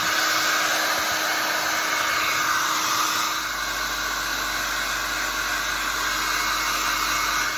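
A hair dryer blows steadily and loudly on wet paint on a DIY craft window, a constant close whoosh that shifts slightly in tone partway through, with no talking.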